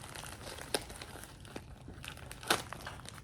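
Plastic packaging crinkles and tears as a knife cuts it open, close and fairly quiet, with scattered sharp crackles and two louder rips.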